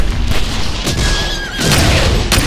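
Loud burst of gunfire from a historical massacre of protesters, rapid booming shots layered over a rumbling, chaotic background, with a thin wavering tone briefly cutting through.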